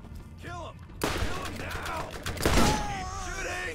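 Gunfire erupts in Borderlands GOTY Enhanced on PC as enemies are shot: a dense burst of shots cuts in sharply and continues, mixed with other game sounds and some voice-like noise.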